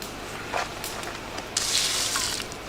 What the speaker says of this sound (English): dump out most of this water